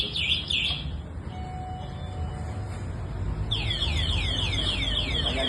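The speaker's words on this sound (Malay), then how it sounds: "kita hidupkan alarm dengan ni mangga yang tutup ni" An electric scooter's anti-theft alarm chirps in rapid repeating electronic sweeps, pausing briefly before starting again louder and faster, sounding close by.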